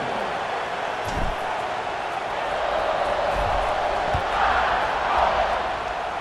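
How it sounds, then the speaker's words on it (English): A large stadium crowd roars during an Alabama vs LSU college football game before the kickoff, a dense, sustained wash of cheering that swells slightly at times, with a few low thumps beneath it. "They're set to kick it off, and this crowd now ready to get behind them."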